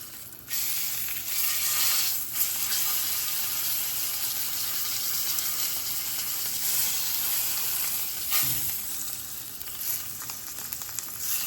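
A ribeye steak's fat cap sears and renders in a hot pan, giving a steady, close, loud sizzle that runs without break, with a few brief scraping touches.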